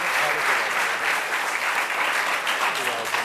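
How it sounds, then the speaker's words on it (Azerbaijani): A TV studio audience of about a hundred guests claps together, a loud, dense, continuous wash of applause that holds steady for several seconds. "Özünüz özünüzü bir alqışlayın, görüm necəsiniz?"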